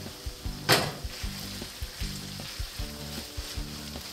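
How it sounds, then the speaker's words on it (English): Garlic sizzles and fries in a pan for homemade spaghetti sauce, a steady quiet hiss with soft crackles and a few louder spatters and stirring clicks throughout. "So we'll add our garlic and we'll let it cook up just a little bit."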